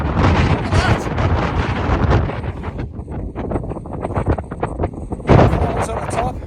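Chilly wind buffets the microphone on a Lake District hillside, a loud continuous rushing roar that briefly eases then surges back, with a hiker speaking over it.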